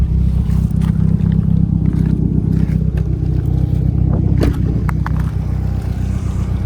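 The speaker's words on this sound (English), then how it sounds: "Got a nice even idle now." Mitsubishi Eclipse GSX engine with an FP manifold, open dump and J pipe settles into a steady, even idle, a loud continuous low rumble close by with no talk.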